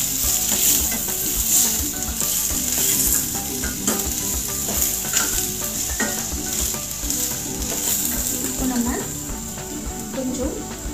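Ingredients for a potato gravy sauté in a hot pan with steady, close sizzling, while a utensil scrapes and stirs at irregular moments throughout.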